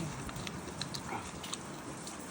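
Crunchy khao soi being chewed close up, a steady crackly munching with small sharp crunches throughout.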